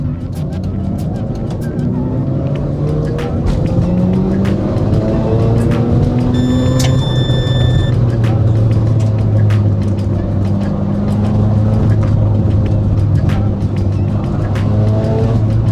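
A Mazda RX-7 with HKS Hypermax suspension driven hard through a long-radius corner, its engine a steady loud drone with pitch rising and falling across the run, under wind and road noise, with occasional talk.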